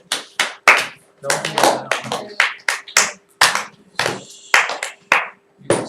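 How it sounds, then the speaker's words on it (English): Hand claps in a classroom, several sharp bursts scattered among students' chatter and a teacher's voice, close and fairly loud. "Somebody clapped."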